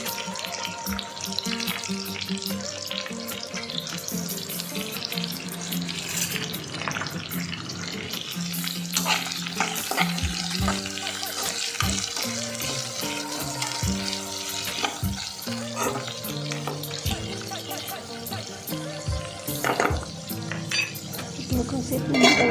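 Onions with salt frying in a pan while being stirred until brown, a continuous close sizzle with frequent spatula scrapes and clinks against the pan over the whole stretch, with occasional faint voice.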